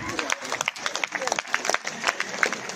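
Audience at a school's silver jubilee celebration marking 25 years claps loudly for the organizing committee, a dense, uneven patter of many hands with crowd murmur mixed in.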